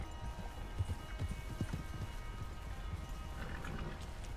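Horse hooves clip-clop at a steady walking pace in Red Dead Redemption 2, a quiet rhythmic series of soft thuds over faint ambient game sound, with no speech.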